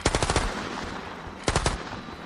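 Machine gun fire from robots' mounted firearms: two rapid bursts of about five sharp shots each, separated by a short pause, loud and close with no voices.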